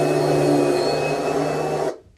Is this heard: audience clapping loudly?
no